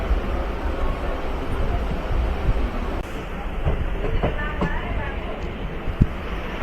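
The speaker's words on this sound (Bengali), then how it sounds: "ট্রেন ছাড়ছে এখন" A train pulling out of a station rolls along the rails with a dense, low rumble and occasional wheel clacks and metallic squeaks, heard from inside at close range with faint voices in the background.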